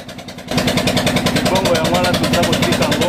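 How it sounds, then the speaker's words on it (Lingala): A loud Changon outboard engine powers a wooden whaleboat on the Congo River, droning with a fast, steady throb that jumps up in volume after a brief quieter start, with no talk over it. "nous sommes à bord d'une baleinière équipée d'un moteur Changon qui fait énormément de bruit"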